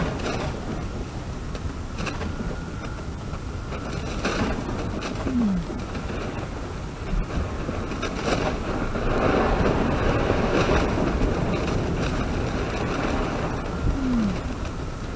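A blue whale's D call is recorded underwater: two faint, descending moans stand out about nine seconds apart against a constant, rushing ocean background.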